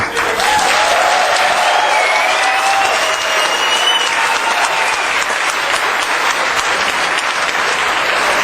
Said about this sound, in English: I think it's a round of applause for the 10 Scouts.